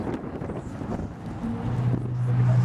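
Outdoor wind buffets the microphone in a steady, rumbling low roar that builds slightly over a few seconds, with a faint engine-like hum rising underneath toward the end and no talking.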